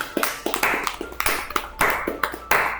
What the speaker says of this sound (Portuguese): Vamos fazer uma salva de palmas?